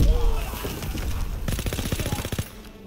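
A German MG machine gun in Call of Duty: WW2 rattles off a rapid, loud sustained burst of evenly spaced shots after a brief lead-in of noise, with no talking over it.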